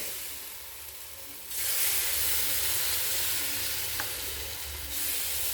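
Green moong dal batter sizzles in ghee in a pan, a broad steady frying hiss that grows louder partway through and then holds, close up, with a single spoken word near the start.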